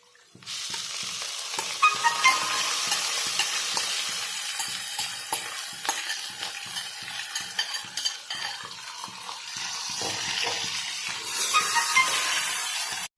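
Marinated goat mutton hits hot oil with sautéed onions in a pan and fries with a loud, steady sizzle, while a spoon scrapes and stirs it in repeated clinks and scrapes throughout, no talking.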